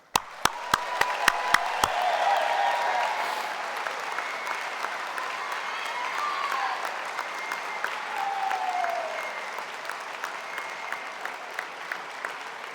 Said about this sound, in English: congratulating the graduates one more time with our applause